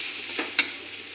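Semolina (suji) toasts in a pan with salt and sugar, giving a steady soft sizzle with a couple of scraping stirs of the spoon.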